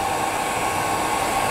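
Hair dryer blowing hot air onto hair being shaped on a fly-tying tube fly, a steady close whooshing hiss with no pauses.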